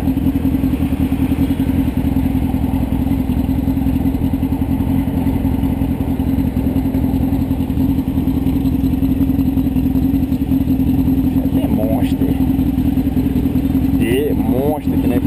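A carbureted Honda Hornet 600 with only an exhaust pipe revs hard in first gear, a loud steady high-pitched engine howl held throughout, with a voice speaking over it.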